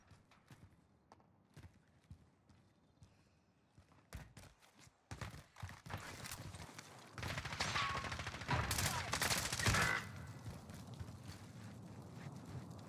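Gunfire in the video game Warzone with an MP5 in play, scattered shots early that build into dense, loud bursts of automatic fire and explosions, with faint voices mixed in.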